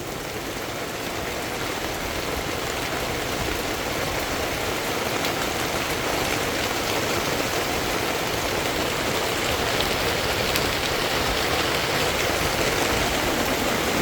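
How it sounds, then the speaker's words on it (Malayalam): Heavy rain pours outdoors near a forest plantation as a dense, unbroken roar that holds steady and grows slightly louder toward the end, with no voices. "എന്താ മഴ."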